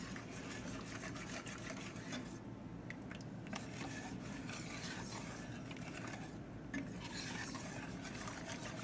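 A spoon stirs melting cheese sauce in a pot, giving a continuous scraping and mechanical rattling texture at a steady level with no talk.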